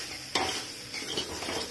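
Dry spices with salt and turmeric frying in a pan with soya chunks and potato, giving a steady low sizzle broken by a sharp spoon scrape and a few softer stirring strokes.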